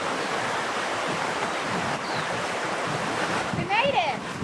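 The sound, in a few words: ocean waves on a Fiji beach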